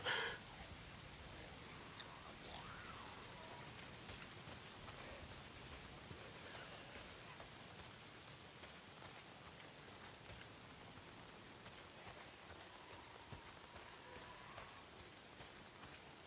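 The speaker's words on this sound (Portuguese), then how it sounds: "Tá sempre chovendo." Continuous rain pours steadily, a dense even hiss of drops on surfaces with no voices, holding at the same level throughout.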